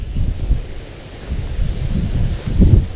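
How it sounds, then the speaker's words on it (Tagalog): Strong wind buffets the microphone during airgun fishing outdoors in low, gusty rumbles that swell and fade, louder toward the end. "Bigla pong mahangin eh."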